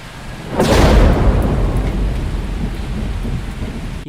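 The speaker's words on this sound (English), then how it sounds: "This house was struck by lightning." Thunder from a lightning strike on a house: a sudden loud crack about half a second in, swelling into a heavy rolling rumble that lingers under steady rain for the rest of the clip.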